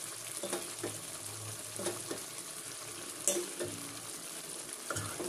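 Eggs sautéing in a stir-fried krecek stew, a soft low sizzle with occasional spoon scrapes and stirring knocks against the pan, quiet and close.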